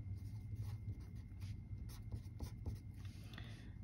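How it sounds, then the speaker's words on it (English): Pen scratching across paper while writing out a chemical dissociation equation, with short soft strokes and taps in irregular bursts, close and quiet against a faint background hum. "So what we should do is we should write our dissociation equation."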